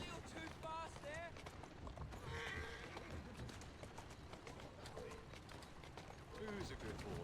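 Horse hooves clip-clop through the streets in Assassin's Creed Syndicate, running with a rhythmic beat beneath almost constant talking, with a brief whinny-like call near the start.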